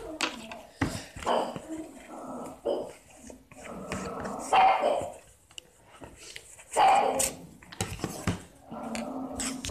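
A pet dog at home barks and yips in short intermittent bursts, heard alongside a voice and light tabletop noises from watercolour craft work.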